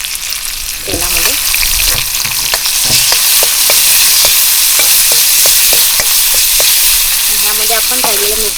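Ground grape-chutney paste hits hot oil and fries with a steady, loud sizzle, broken by repeated scraping and stirring strokes of a spoon against the pan, with no talking.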